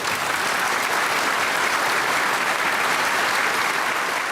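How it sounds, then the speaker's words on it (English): Sustained, dense applause from a large audience, loud and continuous without pause, with no voices standing out. "Everybody was applauding, and nobody was stopping."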